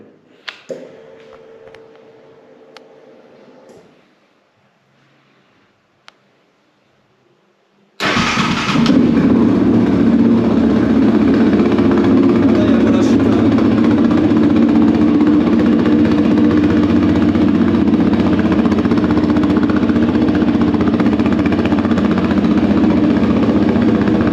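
A Yamaha 700 Raptor ATV engine with its stock exhaust cranks and catches after a quiet lead-in with faint rattling, then settles into a loud, steady, throaty idle that runs unbroken to the end.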